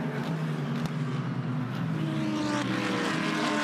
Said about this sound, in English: There's that really nicely turned out Porsche GT3 with the number 1